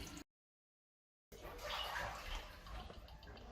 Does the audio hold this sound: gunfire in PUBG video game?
no